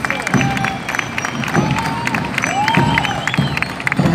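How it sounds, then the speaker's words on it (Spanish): Crowd cheering and applauding at a street parade for the Fundación de Guayaquil festivities, a dense continuous wash of claps and shouts with whistles rising above it, and a band faintly in the background. "con un fuerte aplauso."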